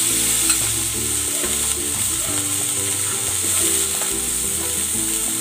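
Pork pieces fry in a hot pan with a steady, close crackling sizzle that runs unbroken throughout, with faint clinks and scrapes from the cookware underneath.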